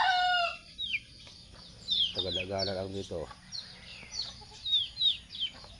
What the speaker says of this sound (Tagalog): Labuyo na manok o.